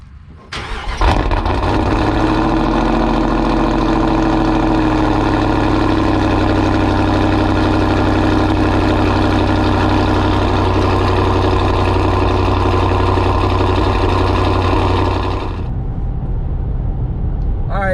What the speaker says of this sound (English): But here's the cold start.